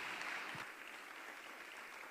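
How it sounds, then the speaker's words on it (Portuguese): Faint, distant applause from a church congregation at a celebration service, a soft continuous wash of clapping with no voices standing out. "Vamos aplaudir ao Senhor Jesus?"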